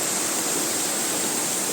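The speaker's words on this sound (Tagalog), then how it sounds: "nakikita niyo ang lakas ng tubig na umaagos sa pools na yan" Strong water rushing from a dam into pools, a loud, broad, unbroken roar heard near the flow with no other sounds.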